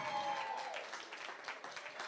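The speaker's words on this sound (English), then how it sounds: "Give her a round of applause." Fashion show crowd at New York Fashion Week gives a lead makeup artist a round of applause, a short, fairly faint burst of clapping with a brief tone at the start.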